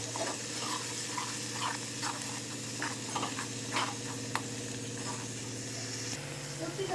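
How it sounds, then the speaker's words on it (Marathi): Masala paste frying in oil and butter for a Maharashtrian hotel-style egg curry, a steady close sizzle and hiss with scattered stirring scrapes, no speech over it. "त्यानंतर आपली पेस्ट टाकून घ्यायची आहे. पूर्ण मसाला फ्राय करून घ्यायचा."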